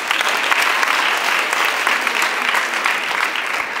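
A lecture audience at a national-service seminar bursts into steady, dense applause, many hands clapping evenly and loudly throughout without pause.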